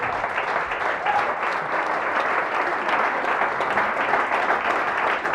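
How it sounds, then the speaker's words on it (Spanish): A church congregation at an Easter Vigil Mass breaks into loud, sustained applause, a dense wash of clapping that fills the room steadily with no voices standing out. "Fuertes aplausos a Jesús."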